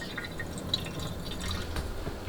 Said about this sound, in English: you're going to strain it and keep repeating this process until the water has become more clear and not so frothy